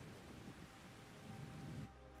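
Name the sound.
rain in the video game ARK: Survival Ascended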